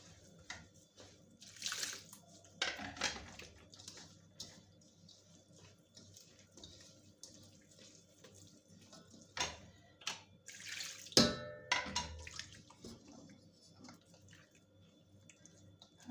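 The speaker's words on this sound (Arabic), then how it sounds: "نكب عليها الماء" Water poured onto corn semolina, a soft splashing and trickling that comes in a few brief bursts between quieter stretches, fairly close and faint, with no talking.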